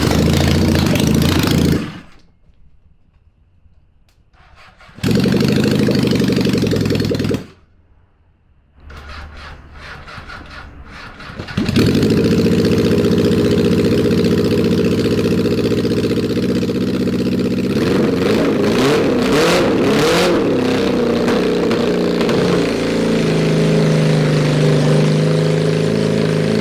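A 750cc engine swapped into a Suzuki four-wheeler runs loud and close, idling with a couple of abrupt cutouts, then settling into a steady rumble with revving surges toward the end.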